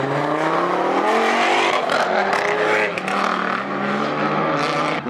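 A Ford SVR drives past at a rainy dockside car meet in Hull, its engine a loud, close, rising and falling drone over crowd noise.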